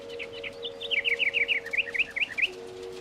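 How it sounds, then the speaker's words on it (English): A small bird sings a quick run of bright, repeated chirping notes, fairly close, over a low steady hum. "A little bird is singing near his window."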